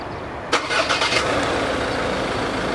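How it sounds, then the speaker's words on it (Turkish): A Ford Raptor pickup, a 2023 T9 model, starts by remote start: a sharp crank and catch, then a steady close idle rumble settling in with no talking. "yedi saniye yakın basık tuttuğunuzda araba çalışıyor"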